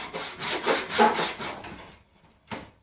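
An old hand saw cutting wood held in a roughly 30-year-old miter block, giving several rhythmic rasping strokes close up, a short pause, then one more stroke.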